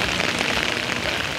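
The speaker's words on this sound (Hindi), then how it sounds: "कोहाट में रिमझिम बरसात से मौसम बदल गया" Light monsoon drizzle in Kohat falls as a steady, even hiss of rain on surfaces, a dense pattering wash that continues without a break and with no voices.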